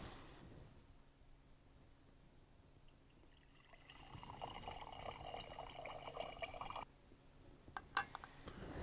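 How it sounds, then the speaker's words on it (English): Cherry tomato confit in oil poured from a pan into a clean, sterilized glass jar, a soft wet glugging and trickling that swells midway and then stops, close and fairly quiet, with a few small clinks near the end. "So I'm going to pour this into a clean, sterilized jar."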